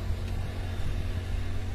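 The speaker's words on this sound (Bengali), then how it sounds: "ওই যে গাড়ি আসছে দেখো" A car approaching on a forested mountain road near Darjeeling's Rock Garden gives a steady low engine rumble, moderately distant and fairly faint, with no talk over it.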